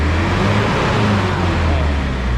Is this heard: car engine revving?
yes